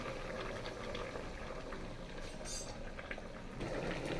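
Meat braising in a covered pot on a stove gives a soft, steady bubbling simmer with occasional faint clinks, quiet and continuous throughout.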